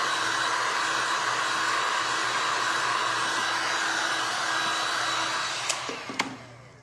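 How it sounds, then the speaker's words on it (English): A heat tool blows steadily to dry paint on an upcycled painted paintbrush craft project, a loud continuous whooshing hum that cuts off near the end, followed by a couple of sharp clicks. "I'm gonna hit this with some heat and get it dry a little"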